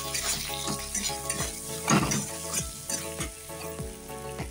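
Potatoes sizzling and frying in a pan as spices go in for a vegetarian pumpkin-leaf dish, a steady hiss with a spoon scraping and clinking against the pan, close and loud, with no talking.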